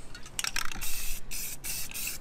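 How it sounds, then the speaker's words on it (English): Spray paint hisses onto a tumbler in bursts of gold, black and clear coats, several short sprays then longer sustained ones, close and loud with brief gaps between. "You can spray at the same time if you want."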